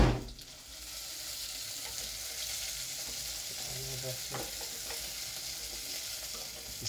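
Beans frying in a pan with green pepper and carrots, giving a steady, close sizzle throughout with occasional scraping and clinking as they are stirred; no one speaks.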